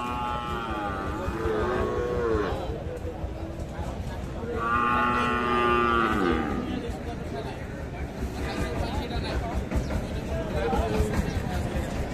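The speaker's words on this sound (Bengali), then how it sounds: "4 মাসের এই বাছুর।" Cattle give two long, drawn-out moos, loud and close, amid the murmur of a crowd talking at a cattle market.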